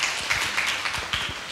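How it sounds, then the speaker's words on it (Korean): Scattered applause from an audience at the closing of an international academic conference on BTS, soft and brief with a light crackle of hands throughout. "예, 박수 한번 보내주세요,"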